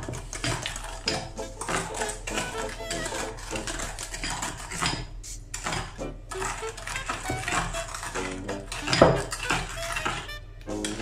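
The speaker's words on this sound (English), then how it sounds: "Just mix the wet ingredients" Eggs and wet ingredients for a gluten-free banana cake whisked in a bowl, rapid continuous clattering of utensil against the bowl, close and busy with no voice.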